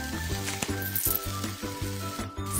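Cartoonish sausage sizzling effect from a kids' cooking app game, a bright crackling hiss over a looping tonal musical jingle with metallic clinks, loud and close, with no voices.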